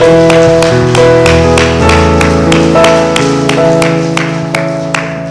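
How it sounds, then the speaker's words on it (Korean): Church congregation clapping in welcome of a new elderly member during a Sunday service, a steady rhythmic run of claps sounding over sustained organ or keyboard chords that fade slightly toward the end. "박수 한번 할까요?"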